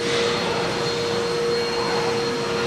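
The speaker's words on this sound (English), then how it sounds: "There goes the vacuum again" A vacuum cleaner drones loudly and steadily with a constant hum and hiss, running without pause.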